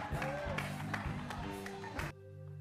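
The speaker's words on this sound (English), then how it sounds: "Round of applause, she wins a lollipop." An audience at a live stage show's games segment applauds after a prize win, a short burst of clapping and crowd noise that cuts off abruptly near the end, with voices mixed in.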